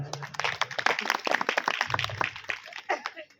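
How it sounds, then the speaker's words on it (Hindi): Crowd clapping and applause with voices mixed in at a live Gondwana katha program in Betul, Madhya Pradesh, fairly dense and continuous throughout, moderately loud. "जोरदार ताली बजाओ"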